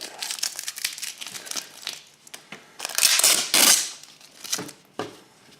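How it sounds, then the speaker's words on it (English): Tape peeled off a polished brass metal sheet, giving a crinkling, tearing sound that rises to a couple of louder ripping bursts, close by, with no talking. "So let's remove the tape."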